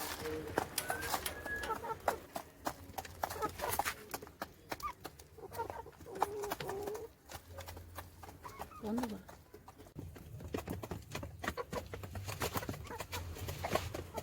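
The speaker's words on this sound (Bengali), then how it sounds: "মুরগিগুলো কেমন করে খাচ্ছে দেখো" Hens pecking and eating, with low clucks and rapid pecking taps near at hand, bird calls scattered throughout and occasional brief voices in the background.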